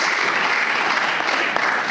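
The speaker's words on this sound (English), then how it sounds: "Give me a round of applause" Dense, loud applause from a pitch-day audience cheering prize winners, steady clapping throughout with no voices standing out.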